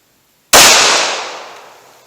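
One loud, close gunshot from a Glock 41 handgun with a 5.3-inch barrel, firing .45 Auto, cracks sharply out of silence and then rings away in a long fading tail.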